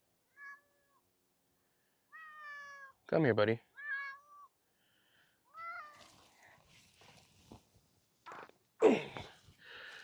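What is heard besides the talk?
cat meowing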